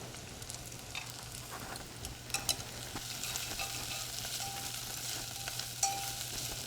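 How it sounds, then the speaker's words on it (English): Garlic and leeks being stirred in a pot for a harvest stew, faint scraping and soft sizzling with small irregular clinks of the spoon, quiet and close, with no talking. "You just stir that around until the garlic and the leeks blend together."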